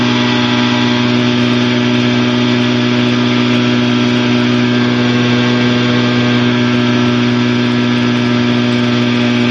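A Challenger II light aircraft engine drones loudly and steadily in flight, a constant buzzing roar with strong tonal harmonics and little change as the throttle is worked.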